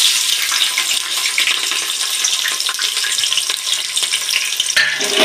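Sliced onions and green chilies fry in oil with bay leaf and cardamom in a pan for vegetable biryani, giving a steady close sizzle with crackling through the whole stretch, with no talk.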